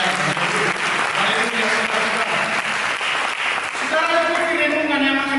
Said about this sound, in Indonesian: Mari kita berikan tepuk tangan yang dari orang.